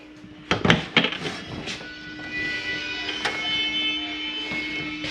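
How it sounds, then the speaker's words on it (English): A door on a Montana 3121RL RV opens with a few sharp clicks and knocks from the latch and frame, followed by a steady low mechanical hum underneath. "Open up this door here real quick."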